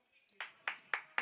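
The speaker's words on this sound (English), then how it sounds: "just giving the Citizen Kane clap" Four slow, evenly spaced hand claps, crisp and close, made as a deliberate sarcastic clap during a Valorant VCT match livestream, with a faint murmur before the first.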